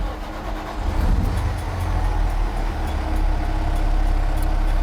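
An H Series broom truck's broom engine runs with a steady, loud low rumble that swells slightly after the first second, heard close with no talking.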